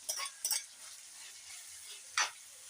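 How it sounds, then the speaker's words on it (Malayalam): Onions sautéing in a pan while a Kerala-style curry is cooked, heard as a faint steady sizzle with a few short scraping stirs of a utensil near the start and one more toward the end. "ഈ സമയത്ത് ഈ സവോള ഇട്ട് വഴറ്റുക"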